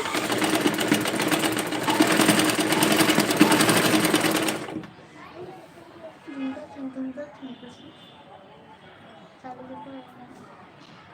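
A sewing machine stitches a work dress in a loud, rapid, steady whir for about four seconds, then stops, leaving a person talking.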